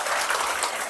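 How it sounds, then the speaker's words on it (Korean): An audience bursts into a brief, loud round of applause, a dense, hissing spread of many hands clapping at once with no voice over it. "이분들 박수 한번 쳐드려야 되지 않을까요?"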